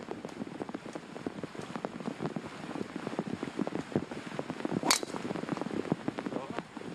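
Rain falls on a golf course at a women's professional tournament, a steady close patter of drops against a breezy background, with one sharp brief knock partway through.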